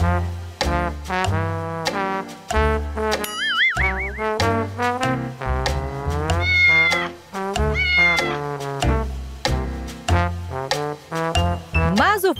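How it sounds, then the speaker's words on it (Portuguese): Several kittens meow over and over, high and close, with short cries and some longer drawn-out mews in quick, irregular succession and no talking. "Olha só estes gatinhos."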